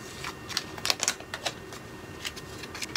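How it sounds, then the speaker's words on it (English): Tape being pulled off a violin tailpiece during conversion to a solid-body electric, a string of sharp, close ticks and small peeling snaps in an uneven rhythm, fairly quiet. "pull the tape off your tailpiece"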